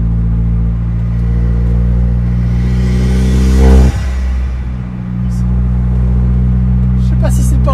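An Alfa Romeo 4C sports car engine idles with a deep rumble, then revs sharply once with a rising roar and falls back; voices talk over it.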